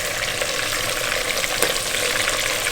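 Lamb pieces fry in hot oil in a heated kazan on a stove, a loud, dense, continuous sizzle and crackle with steady popping close by.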